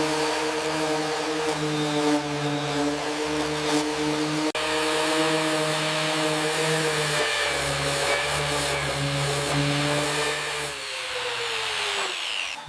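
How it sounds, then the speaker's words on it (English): A power sander strips orange paint from the metal of an abandoned mini Harley chopper motorcycle, a steady loud whining drone that holds close and continuous throughout with a slight dip in pitch near the end. "You want to keep the sander flat and move it steadily along the edge."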